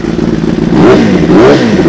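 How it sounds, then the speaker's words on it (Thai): A 2019 Kawasaki ZX6R sport motorcycle with a genuine exhaust runs loud and close, its engine note rising and falling through a quick rev over a steady idle. "คันนี้เดี๋ยวมาฟังเสียงเครื่องกันนะครับ"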